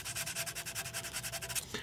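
A plastic squirt gun is hand-sanded with 400 grit sandpaper in quick, even back-and-forth rasping strokes, close and steady, with no talking.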